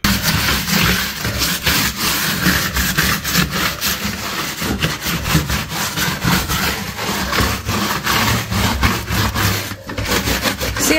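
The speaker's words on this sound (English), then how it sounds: "See how we're able to use this bristle brush on here?" Bristle brush scrubbing a faux tile bathroom floor in a continuous run of loud, close, rhythmic rasping strokes.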